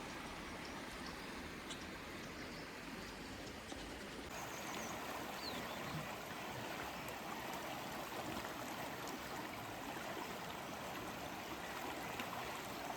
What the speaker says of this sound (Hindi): केवल शोर है या कोई आवाज़ है तो केवल नदी की और चिड़ियों के चहचहाने की।